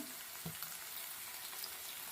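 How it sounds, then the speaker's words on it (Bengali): Potatoes frying in oil in a pan, a soft, continuous sizzle with a brief stir or clink near the start, fairly quiet and steady. "আগে দিয়ে একটু আলুটাকে লাল লাল করে ভেজে নিতে হবে"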